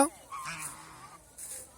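Domestic geese honk a few times, with short nasal calls at moderate distance over quiet background.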